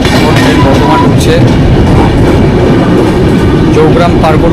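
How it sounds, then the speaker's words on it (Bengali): The Saraighat Express running into Bardhaman station, with loud, continuous rumbling and clattering of the rail wagons heard from on board, close and steady throughout. "এখন ট্রেন বর্ধমান ঢুকছে।"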